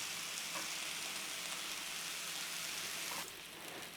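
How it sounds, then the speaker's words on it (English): Steady, dense crackling sizzle of bacon frying in a hot pan, continuous and fairly loud, easing slightly near the end. "you've got that nice bit of sizzle going on in that pan there"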